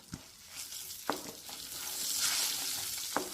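A spoon scrapes and stirs spices through aavakaya rice in a pan, making soft swishing with a few sharp clinks against the metal and a low background hiss, no voices.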